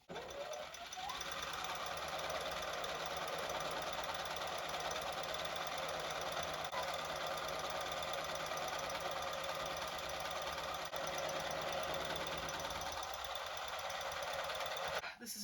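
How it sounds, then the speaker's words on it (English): Sewing machine stitching a patchwork tote, a fast steady mechanical whirr running almost unbroken for a long stretch, close and even, then stopping near the end. "Sewing time!"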